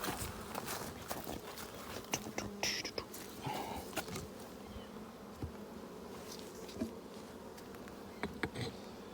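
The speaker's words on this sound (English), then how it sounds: "Look at all that activity, plus look at all the bees in that feeder." Honeybees buzzing around an open hive holding a two-frame feeder, a steady close hum with scattered louder passes of individual bees and a few faint knocks.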